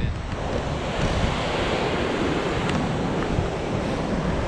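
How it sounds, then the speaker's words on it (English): Steady rushing water and wind sound at a river cave on the Rogue River during a jet boat tour, a loud broad wash with gusty microphone buffeting and no clear splashes. "I think I hear water inside of it."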